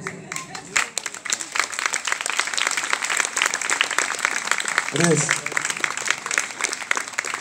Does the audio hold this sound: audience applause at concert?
yes